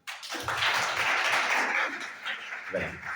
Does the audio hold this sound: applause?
yes